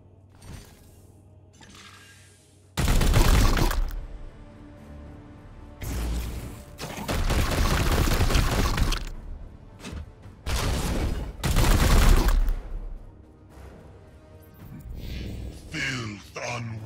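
Gunfire in the Warhammer 40K Chaos Gate: Daemonhunters video game comes as several loud, dense volleys of weapon fire with booming impacts, separated by quieter gaps where a voice speaks.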